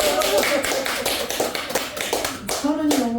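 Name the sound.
audience clapping hands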